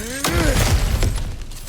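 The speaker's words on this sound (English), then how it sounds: "back to smashing through things for fun and profit" Cracked ground breaking open in God of War Ragnarok, heard as a sudden loud shattering crash followed by a few rumbling thuds and crumbling debris that fade over under two seconds.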